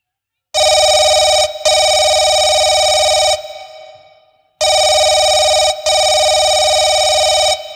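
A telephone rings loudly while a call is being placed, sounding two double-burst rings of a bright electronic tone, each pair separated by a short pause, close and clear with no talk over it.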